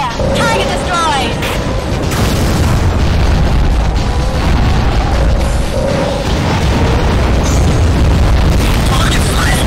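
Explosions and heavy booms from targets being destroyed in the underwater combat game AquaNox, loud and continuous with rumbling bursts layered over game sounds and a talking voice throughout.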